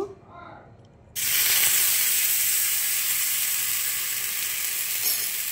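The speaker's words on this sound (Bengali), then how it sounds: "দেখো একটু জল দিলাম, এই একটু তেল দিলাম, এবার একটু জল দেব" Water and oil hit a hot iron griddle (chatu) being seasoned to make it nonstick, bursting into a sudden loud sizzle that continues as a steady, close hiss after a brief quieter moment.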